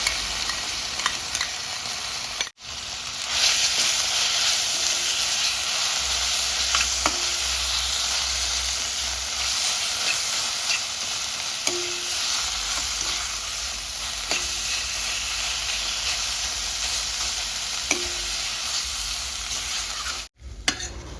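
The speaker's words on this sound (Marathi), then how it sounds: "ओलं खोबरं तेलामध्ये छान परतल्यानंतर आपण आता गॅस बंद करायचा आहे आणि त्यानंतर पायनॅपल जॅम घालायचं आहे आणि व्यवस्थित सर्व मिश्रण एकजीव करून घ्यायचं आहे" A thick mixture of grated coconut and pineapple jam is stirred steadily in a pan, producing continuous scraping and soft sizzling with periodic spoon strokes, close and fairly loud, with no talking.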